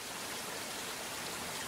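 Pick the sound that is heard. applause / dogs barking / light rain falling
light rain falling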